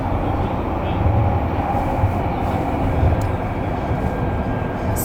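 Inside a light rail train heading to Petach Tikva in Israel, a steady low rumble and rolling hum of the moving carriage fills the space, with faint clicks and brief rattles over the constant drone.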